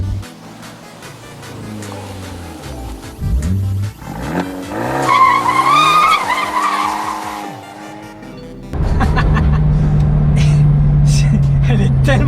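A rear-wheel-drive Abarth 124 GT drifts with stability control off, its tires squealing in a long rising screech over the engine, followed by loud engine roar; someone talks in between.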